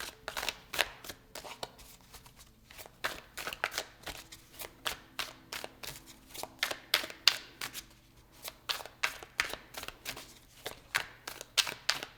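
A deck of tarot cards is shuffled over and over in a steady run of crisp riffling bursts, close and fairly loud, filling the whole stretch without any talk.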